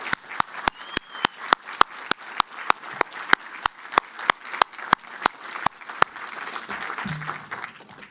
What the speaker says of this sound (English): Let's all have one more round of applause for this year's honorees and winners.